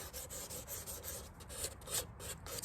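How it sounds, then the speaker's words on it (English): Sandpaper lightly rubbing the edge around a car mirror before painting corroded aluminum, a soft, quiet scratchy rasp in quick back-and-forth strokes, alone. "you might take your sandpaper and just go over it really lightly"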